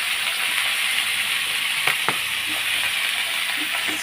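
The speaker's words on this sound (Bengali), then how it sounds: "তা এখন আমি সব ভাজাগুলো ঢেলে দেবো" Fried vegetables poured into a hot pan in a Bengali home kitchen while a vegetable posto dish is being cooked, giving a steady, loud sizzling hiss throughout with a couple of faint clicks.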